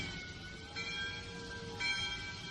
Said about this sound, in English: let's kill the bell now